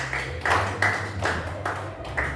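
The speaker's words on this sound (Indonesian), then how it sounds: "Tepuk tangan dulu." Sparse rhythmic clapping from a classroom group, about six evenly spaced claps at moderate volume over a low steady background hum.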